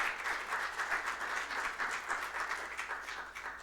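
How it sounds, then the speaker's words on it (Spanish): A church congregation gives sustained applause, many hands clapping at close range in an even, slightly pulsing roar. "Dele ese aplauso al Señor."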